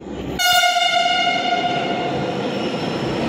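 A Delhi metro train sounds a loud sustained horn after a short quiet lead-in, over the close, steady rumble of the running train, with no talking.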